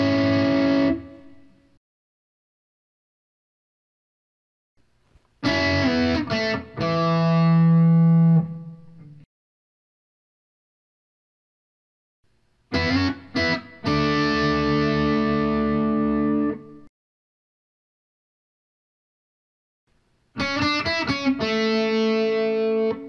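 A distorted electric guitar plays a lick in four separate bursts of ringing notes and bends, each followed by silence, loud and close with effects on the tone.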